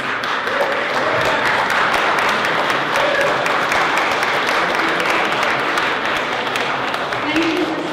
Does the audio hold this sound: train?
no